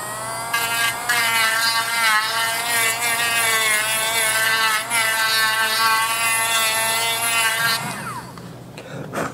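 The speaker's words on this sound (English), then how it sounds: "I charged my Dremel up to sand these edges to even them out" A Dremel rotary tool sands the edges of a leather tri-fold wallet, a loud, steady high-pitched whine with a small pitch wobble as it presses into the leather, then spins down near the end.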